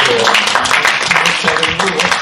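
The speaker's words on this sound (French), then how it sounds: "On peut applaudir." A church congregation at a special anniversary service applauds together, a dense, steady wash of many hands clapping close by, easing slightly toward the end.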